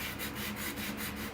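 A sanding block rubs glue off a surface, scraping back and forth in quick, even strokes, close and moderately quiet with no talk.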